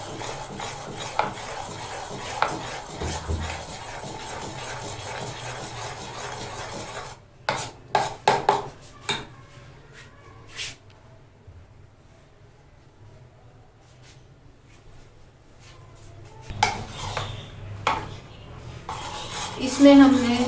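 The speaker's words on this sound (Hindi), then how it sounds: "इसमें हमने ऑयल डालकर या घी मक्खन जो भी डालेंगे उसको इतना बीट करना है कि ये अच्छी तरह इस तरह का मिक्सचर तैयार हो जाए" Oil being beaten into dry fruit cake batter in a bowl: steady scraping, rasping strokes of a utensil against the bowl. The strokes pause briefly midway, then resume in short bursts.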